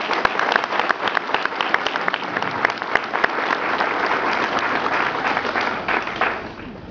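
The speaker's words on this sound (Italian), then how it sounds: "Vi chiedo un applauso per chi è stato veramente bravi." An audience at an Italian political event, where agriculture minister Luca Zaia is speaking, bursts into sustained applause: dense, fairly loud clapping from a crowd lasting several seconds before thinning out slightly at the end.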